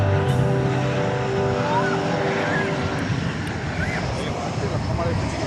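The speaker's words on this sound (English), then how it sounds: "It's Airbus A321 coming in from Denver, Colorado." An Airbus A321 airliner arriving at DFW Airport on a steamy summer night, its engines giving a steady broadband roar with tonal whine throughout, while people talk faintly nearby.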